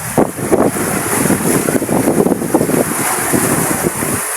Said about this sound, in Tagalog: lakas ng hangin guys ay lakas ng hangin at ang lalakihan ng mga alon doon sa ito sa laot oh